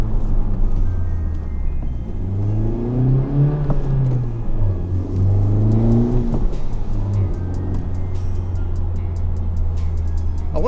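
A Honda Civic Type R with a transmission problem accelerates from inside the cabin, its engine rising in pitch through two pulls, easing off between them, over a steady road rumble.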